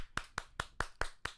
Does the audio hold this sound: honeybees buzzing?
no